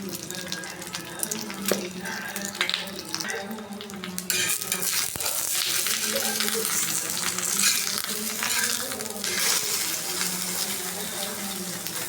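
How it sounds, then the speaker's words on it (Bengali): Eggs frying in oil in a pan, a continuous close sizzle that swells louder partway through, with some clattering and scraping on top. "ডিম ভেজে নিব"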